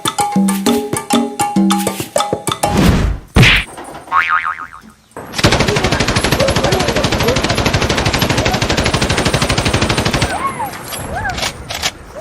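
Gunfire sound effects play as a fast, loud rapid-fire burst of shots lasting several seconds, preceded by boingy cartoonish effects and a short musical jingle, with brief intermittent chirps over the firing.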